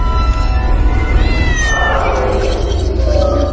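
Dozens of cats meow around a woman cooking in a house, several overlapping cries rising and falling over a dense, loud background.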